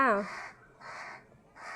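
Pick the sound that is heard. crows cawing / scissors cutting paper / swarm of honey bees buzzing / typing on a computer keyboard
crows cawing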